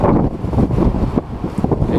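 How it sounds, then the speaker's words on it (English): Gusty wind buffets the microphone, producing a loud, low rumbling roar that surges and dips without pause. "it's quite windy out here now"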